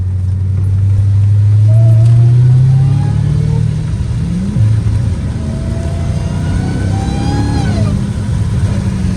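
A Dodge Hellcat Redeye's supercharged engine drones and revs loudly as the car drives through hurricane rain and flooded roads, pitch climbing and falling through gear changes inside the cabin.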